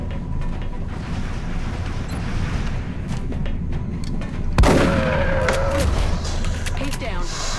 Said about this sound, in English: Get over there and shoot that guy.